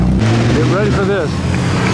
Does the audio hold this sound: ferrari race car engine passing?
yes